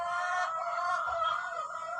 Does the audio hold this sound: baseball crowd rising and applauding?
no